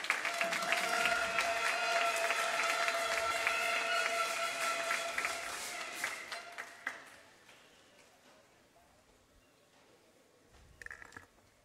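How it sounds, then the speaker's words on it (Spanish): Sustained applause from a crowd, dense and steady for about seven seconds, then fading out with a few scattered claps near the end. "Con un fuerte aplauso."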